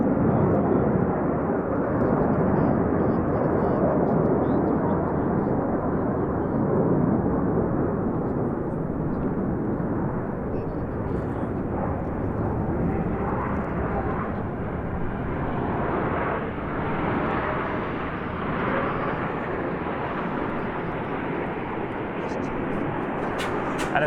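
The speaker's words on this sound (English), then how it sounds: "And as they depart, the next group of aircraft is running in beneath them from the right" Black Eagles jets fly past at an air show, a continuous loud broadband engine roar that slowly shifts as the formation passes, with a commentator's voice over it.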